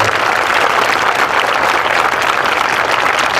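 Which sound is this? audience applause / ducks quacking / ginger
audience applause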